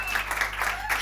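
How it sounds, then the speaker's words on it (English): Brief burst of audience clapping at a panel event, fairly close and dense, with a steady low hum underneath and a voice speaking over it. "You guys can clap and make us feel happy."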